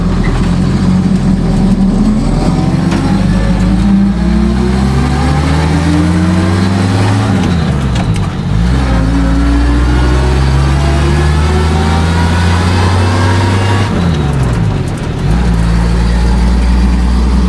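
A 1949 International KB5 dump truck's engine runs smoothly, a loud steady low rumble close by that rises and falls a couple of times as the revs shift, with no talking.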